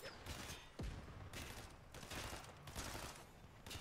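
Rapid volleys of gunfire in a first-person shooter video game crackle in repeated loud bursts, with a voice speaking briefly between them.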